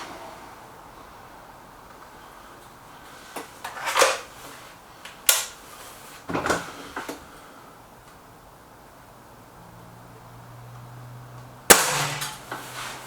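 A suppressed Stoeger RX20 S2 air rifle fires several soft, sharp muzzle cracks, each spaced seconds apart, with quiet pauses between shots outdoors.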